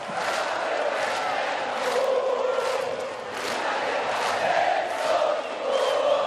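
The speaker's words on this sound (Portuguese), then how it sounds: "A torcida emociona e mais uma vez vai jogar junto." Santa Cruz football supporters in a packed stadium at a Série C final chant in big rhythmic swells, a massed roar of voices rising and falling throughout.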